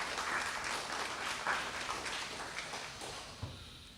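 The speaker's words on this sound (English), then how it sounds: "Let's give them a round of applause." Audience at a university memorial lecture applauding, a dense wash of many hands clapping that holds steady for several seconds, then thins and fades toward the end.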